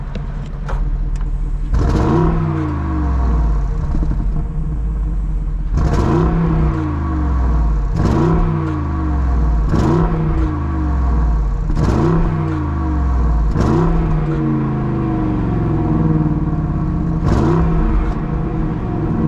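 A 2026 Bentley Bentayga Mulliner V8 revs hard in a run of about seven sharp blips, each rising and then falling back to a deep, burbling idle. The sound is close and loud, with no talking.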